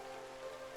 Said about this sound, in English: Standing out in the rain for no reason.